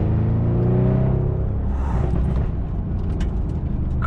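Audi S8 D4 engine revving hard, a deep steady rumble heard from inside the car that swells and then eases slightly, with no voices over it.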